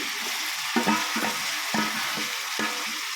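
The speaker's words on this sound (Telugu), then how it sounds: "ఇప్పుడు కట్ చేసి పెట్టుకున్న టమాటాలు వేసుకుందాం" Chopped tomatoes frying in hot oil for tomato curry, an even hissing sizzle with several spoon stirs and scrapes knocking through it at irregular intervals.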